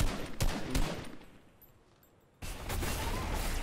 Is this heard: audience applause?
no